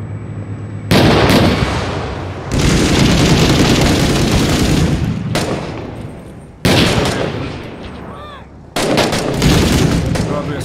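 Loud grenade explosions and rifle fire in the video game Six Days in Fallujah, several sharp booming blasts that each decay slowly, spaced a couple of seconds apart.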